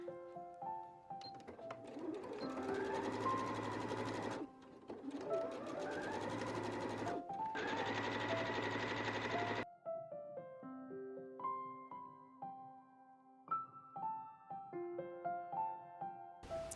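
A sewing machine stitches patchwork Christmas stocking pieces with a quarter-inch seam in three loud, sustained whirring runs separated by short pauses. Gentle tonal music follows once the stitching stops.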